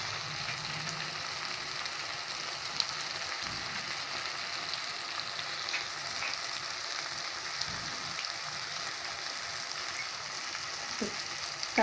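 Green chillies frying in a pan, a continuous close sizzle and crackle that holds steady throughout, with a few faint stirring knocks underneath.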